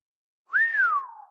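A voice imitates a sardonic whistle, a single clear whistled note that rises briefly and then slides slowly downward, close and alone.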